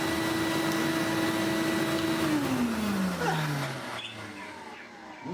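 A Goblin Omni 1000 vacuum cleaner with a slightly dodgy motor runs with a steady whine, then the pitch slides down as the motor winds down and fades away.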